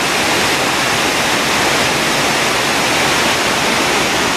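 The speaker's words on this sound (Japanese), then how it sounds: "白ひげの滝" Shirahige Falls near Shirogane Onsen in Hokkaido, a steady, dense roar of falling water filling the whole clip at close range with no other sounds.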